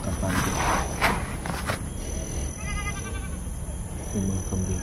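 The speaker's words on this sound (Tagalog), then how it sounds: "Yung mga kambing pa kung naririnig." Goats bleat close by in several wavering calls, first loud, then quieter ones near the end, over rustling and footsteps outdoors.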